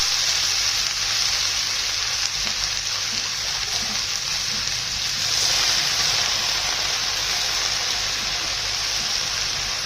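Squeezed fenugreek leaves sizzle in a hot pan for a Maharashtrian methi bhaji, a loud, continuous hissing fry that holds steady throughout without talk.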